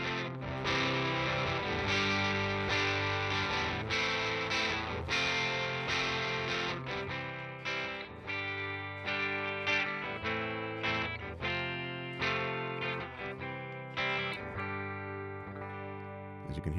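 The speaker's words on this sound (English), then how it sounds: "It's a crispy distortion." Electric guitar through a Fuzzolo pedal set for a crispy, light distortion, strummed chords and riffs played continuously and loud with no talking.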